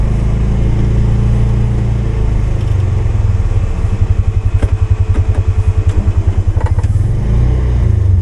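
A Polaris Ranger 570 SP Premium UTV rigged for plowing runs loud and close, with a steady engine drone that shifts midway into a deep, rhythmic throbbing pulse.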